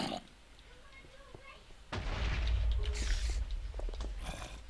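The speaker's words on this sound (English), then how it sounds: "Still hearing explosions from somewhere." A deep, heavy rumble swells in after a quieter stretch and stays loud, with crackling bursts layered on top, like distant game explosions.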